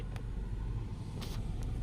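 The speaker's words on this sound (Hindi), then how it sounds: "क्लच दबाया और गाड़ी के इंजन को स्टार्ट किया" A car engine idles steadily after being started with the clutch pressed in neutral, a continuous low rumble close by, with no talk.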